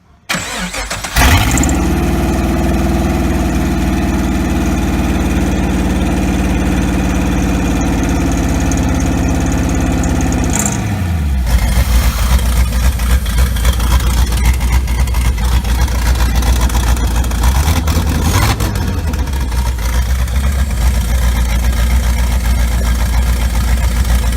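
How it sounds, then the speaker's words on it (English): A turbocharged LS-swapped Nissan 350Z engine cranks and fires, then runs smooth and steady with no fuel pressure regulator fitted. The loud, close idle holds with a low drone and shifts tone partway through. "the first one was it running with no fuel pressure regulator"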